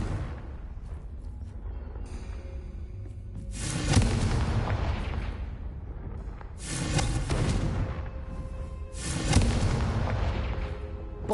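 Three heavy spell blasts from the Confringo fire curse in Hogwarts Legacy, each a loud, booming burst landing a few seconds apart, with rumbling decay between them and no talking.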